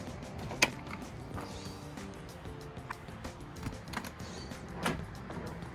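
A drawer from a camper conversion kit slides out past its lock, giving a sharp click near the start, a soft sliding rumble, then a second knock near the end, all fairly quiet and close.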